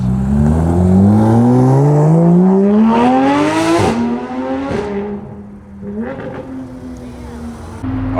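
An Audi R8's exhaust roars as the engine climbs steadily through the revs, loud and nearby, then settles into a lower idle with brief blips.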